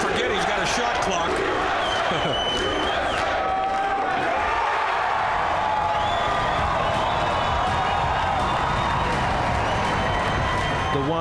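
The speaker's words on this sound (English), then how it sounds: "Wait until you hear the crowd roar when this 9 ball goes in." A crowd roars and applauds at the 2017 Mosconi Cup pool match as a 9 ball drops, a loud sustained swell of cheering and clapping with a commentator talking over it.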